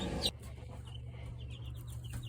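Newly hatched chicks peep faintly in a chicken hatching setup, a few thin high chirps scattered over a steady low hum from the incubator.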